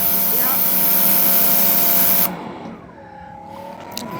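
A Greenworks Pro 3000 PSI pressure washer sprays pavement with a loud, steady hiss for about two seconds, then cuts off abruptly, leaving a quieter pump hum and faint rumble.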